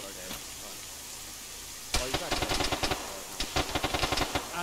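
Video game gunfire cracks out in rapid automatic bursts, loud and close, with a lone shot early on, then two sustained volleys of fast repeating shots.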